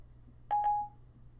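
iPhone running iOS 6 dialing a number by voice command: two short electronic keypad tones in quick succession, clear and moderately loud over a faint background hum.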